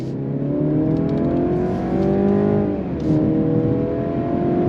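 A 2023 Mercedes-Benz C300 luxury sedan accelerates on throttle, its engine note climbing loud and close from inside the cabin, with a brief dip at a gear change before the pitch rises again.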